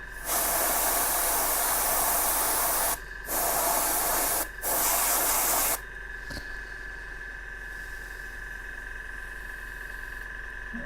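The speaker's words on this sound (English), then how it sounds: "just point the airbrush down the trouser leg, and it should catch the raised areas" Airbrush spraying grey paint onto the trouser leg of a Two-Face Batman miniature figure: three loud bursts of sharp hiss close to the mic, separated by short gaps, then a quiet steady hum.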